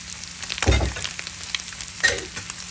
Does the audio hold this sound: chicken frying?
yes